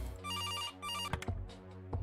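A telephone rings in the point-and-click detective game Kathy Rain, with a warbling electronic ring that repeats in two bursts over low background music, followed by a few soft clicks.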